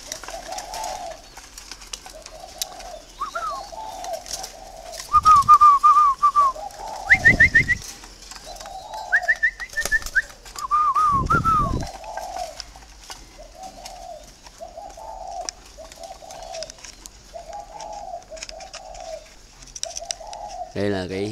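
Caged spotted doves on a farm porch hung with orchids in rural Ba Vì, Hanoi, coo in a steady repeating series of soft phrases, with occasional louder bird calls and brief rustles in between.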